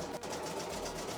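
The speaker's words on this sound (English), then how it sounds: "I'm just testing a embroidery machine, putting it through its paces" An embroidery machine stitching polyester thread runs with a steady, continuous mechanical whir and rapid needle chatter, close and even throughout with no voices.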